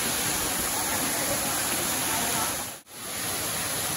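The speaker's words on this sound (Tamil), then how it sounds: "இப்ப நம்ம வந்துட்டு ஃபால்ஸ்க்கு வந்திருக்கோம்" Kiliyur waterfall in Yercaud, off season with a modest flow, gives a steady broadband rush of falling water, close and continuous, briefly dipping to near silence before the roar resumes.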